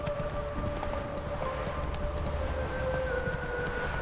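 Horse hooves clip-clop steadily at a moderate pace in The Witcher 3 video game, a continuous close rhythm over a low ambient game soundscape.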